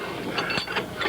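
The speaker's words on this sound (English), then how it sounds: "put this in the vise here" Wood being clamped into a workshop vise while shaping a crooked stick, a short run of ratcheting, clicking mechanical turns up close with a few distinct bursts, no talking.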